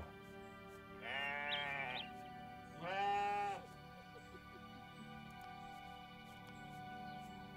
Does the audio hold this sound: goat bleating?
yes